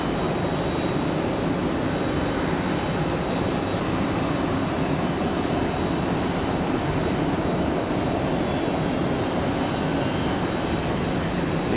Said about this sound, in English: We've got Delta 1407 back to Detroit, headed out to the end of the runway here